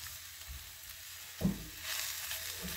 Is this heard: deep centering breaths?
no